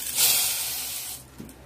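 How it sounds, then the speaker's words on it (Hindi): Hot tempering of curry leaves and red chillies poured into a pot of hotel-style South Indian sambar gives a loud hissing sizzle that bursts up, then slowly fades over about a second, heard close with no talking. "अब हम इसे तड़का लगा लेते हैं अपने सांभर में।"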